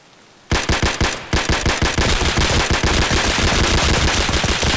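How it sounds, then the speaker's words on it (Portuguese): Automatic gunfire bursts out in Escape from Tarkov after a brief quiet moment. Rapid loud shots come in fast runs, then merge into dense continuous firing with heavy low booms. "Eu dei muito tiro no maluco, velho."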